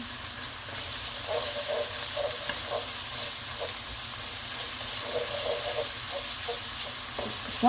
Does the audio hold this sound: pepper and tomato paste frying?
yes